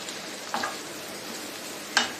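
Onion pieces and carrot frying in a hot pan, a soft steady sizzle with two brief stirring scrapes.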